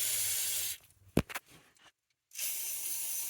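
Penetrating fluid sprayed from an aerosol can around the in-tank fuel sender and pump area of a Volvo 240, a loud steady hiss that starts, stops for about a second and a half, then sprays again.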